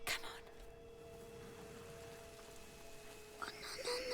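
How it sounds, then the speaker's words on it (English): Steady, soft rain hiss falls in a medieval setting in A Plague Tale: Innocence, a faint even wash with a low hum beneath and a few brief rustles near the end, with no voices. "It's only the rain."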